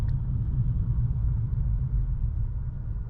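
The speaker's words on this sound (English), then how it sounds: "The road noise is nice and quiet in here." Inside a 2015 Mercedes-Benz S550 while driving, a low, steady road rumble and muted tire hum fill the cabin, even and fairly quiet with no talk.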